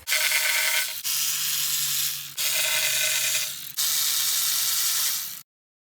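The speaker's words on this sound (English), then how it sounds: "take off all of our 10 millimeter nuts going all the way around" A ratchet loosening the 10 mm nuts around a Honda oil pan during a B-series engine oil pan gasket job, heard as four long, steady rasping clicking runs separated by short pauses.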